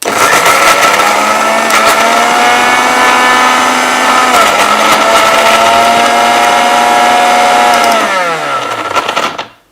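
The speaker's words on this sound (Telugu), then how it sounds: "మిక్సీ జార్ ఫిక్స్ చేసుకొని మిక్సీ పట్టండి" Loud, continuous whirring of a mixer grinder blending vegetable pieces close by for several seconds, then winding down to a stop at the end.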